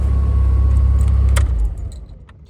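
Keys jangle briefly as a 1990 Lancia Delta Integrale HF 16v is switched off, its low engine rumble cutting out after about a second and a half, leaving quiet indoor stillness with faint clicks.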